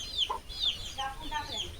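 Chickens kept at a village home make short, scattered clucks and chirpy calls, close by and moderately loud against faint outdoor background.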